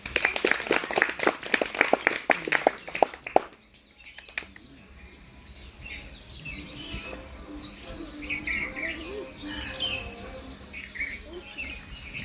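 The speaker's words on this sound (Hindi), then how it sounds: "ताली बजा दो सब लोग।" Village crowd at a street magic show clapping in a quick burst of applause, then fading into a quieter outdoor murmur with faint chirps and background chatter.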